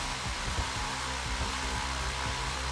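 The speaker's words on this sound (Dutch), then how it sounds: "Oh, ik hoor die slipstream." Car slipstream whoosh during a GTA V Online race, a steady broadband rushing roar with low engine hum underneath, continuous and fairly loud.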